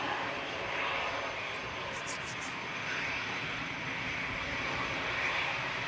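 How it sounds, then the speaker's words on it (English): An easyJet airliner on approach to land at Manchester Airport gives off a continuous broad engine roar, steady and fairly close. "we've got an EasyJet coming down uniform, making lots of noise"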